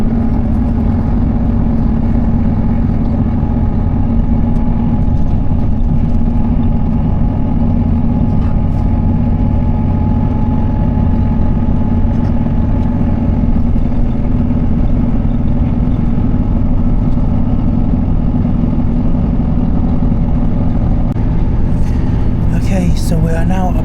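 Yorkshire Flyer train heading toward Sheffield, heard as a loud, unbroken low rumble and hum of the carriage in motion, steady throughout, with a brief rattle near the end.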